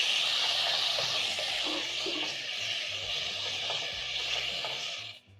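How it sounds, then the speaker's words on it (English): Beef pieces sear in hot oil for Kenyan sukuma wiki and beef, giving a continuous, fairly loud hissing sizzle that stays even throughout, then drops away sharply at the very end. "While my beef is searing"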